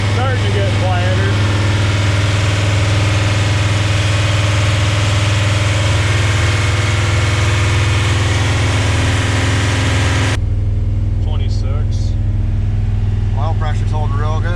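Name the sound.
1973 Dodge Dart LA 360 engine idling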